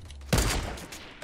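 A quick burst of Fortnite gunfire aimed at a building, a loud cracking volley with a brief rattling tail, close and short with no voices.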